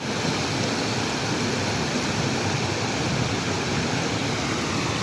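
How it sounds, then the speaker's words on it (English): Water rushes steadily at Wolverley Court Lock on a canal, a continuous close hiss and roar with no voices over it. "I heard the water."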